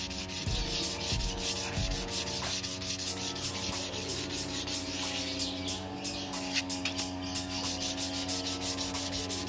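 Steady back-and-forth rubbing of sandpaper on a Yamaha RX-King carburetor diaphragm, close and continuous with a regular scraping rhythm and no talk.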